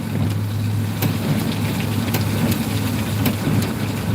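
Heavy rain pours during Typhoon Aghon under a dark stormy sky, a loud continuous roar with a low steady rumble beneath and scattered sharper drops and splashes cutting through.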